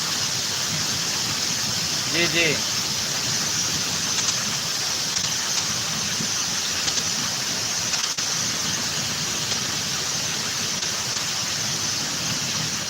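Heavy rain in Mumbai hisses as a steady, dense wash throughout, with a voice speaking briefly near the start over the downpour.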